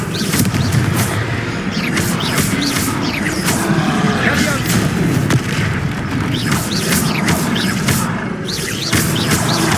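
Confringo fire spells blast during a Hogwarts Legacy combat fight, a dense run of repeated booming impacts and crackling bursts layered over constant battle noise, with voices shouting in the mix.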